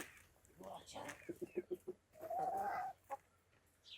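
Chickens clucking in short, rhythmic bursts, with a drawn-out squawk in the middle, fairly quiet and close.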